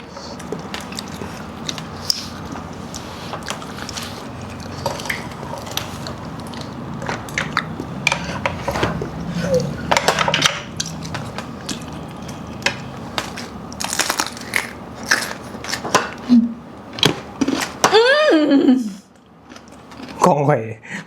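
Someone chews spicy pounded paddy snails and apple snails dressed with fermented fish sauce. The crunching and biting comes in loud, close, repeated bursts over about twenty seconds, with a voice talking near the end.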